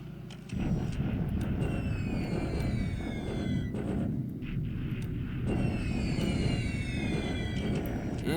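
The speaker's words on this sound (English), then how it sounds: "And the Catalinas are back" Engines of Catalina flying boats in the Pacific war game War in the Pacific: a steady, droning propeller roar with rising whining tones in two sweeps, under a voice talking.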